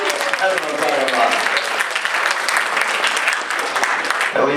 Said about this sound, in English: Give them a round of applause coming in late.